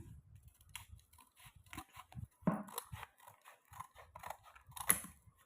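Scissors snip a plastic strip for a woven basket: a series of short, crisp cutting clicks and crinkles at close range, irregularly spaced, with light plastic rustling between cuts.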